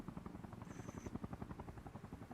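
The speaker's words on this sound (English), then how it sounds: "Helicopters are coming in." Helicopters approaching in Arma Reforger, a steady rhythmic rotor chop, fairly faint and distant, with no talking.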